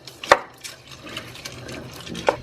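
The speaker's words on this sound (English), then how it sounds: "Give it a big stir." A spoon stirs chopped cauliflower and split peas in a cooking pot, giving two sharp clacks against the pot with soft wet sloshing and scraping between them, close and clear.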